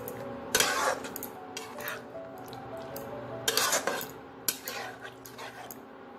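Metal spoon scraping and clanking against a pan while kadai paneer with cream is stirred, a few sharp bright clinks and rubbing scrapes spread over several seconds, fairly quiet and close.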